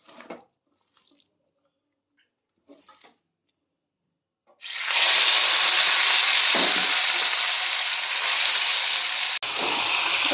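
A chopped mix of kachki fish, potato, chilli and onion drops into hot oil in a wok, setting off a sudden loud, steady sizzle after a few seconds of quiet, faint handling sounds.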